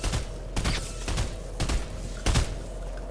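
Video game gunfire crackles in a shooter, several sharp bursts of shots spaced about half a second apart over a constant low rumble.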